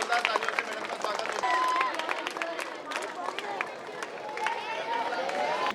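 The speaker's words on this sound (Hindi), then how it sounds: "बच्चों एक बार जोरदार तालियों से मैडम का स्वागत" Children at a school alumni meet at Jawahar Navodaya Vidyalaya in Mandsaur clap steadily together to welcome a teacher, the applause dense and sustained from a room full of young hands, with some chatter underneath.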